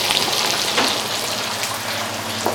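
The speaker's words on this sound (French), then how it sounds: "on les finira à la poêle, comme on est en train de faire maintenant" Gnocchi pan-frying with candied tomatoes and basil in a skillet, a steady dense sizzle with no pauses throughout.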